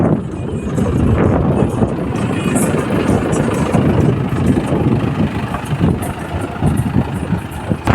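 A loud tractor engine idles and rumbles continuously nearby, with wind buffeting the microphone throughout.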